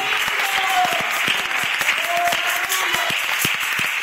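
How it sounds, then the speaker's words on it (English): A church congregation claps their hands in praise, with steady dense clapping filling the room alongside a few voices and a brief tonal note rising over the claps. "Clap your hands and give God praise"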